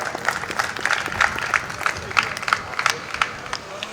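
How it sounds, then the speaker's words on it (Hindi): Live audience at a Hindi comedy poetry show claps in scattered, uneven bursts across four seconds, sharp individual claps rising and fading rather than a full ovation, moderately close in a hall. "अगर ठीक ठाक बात हुई तो एक वो ताली वाली बजा।"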